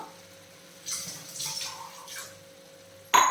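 A cup of water poured into an egg aviyal, a soft splashing pour of under two seconds over a low kitchen hum, ending with a sharp clink.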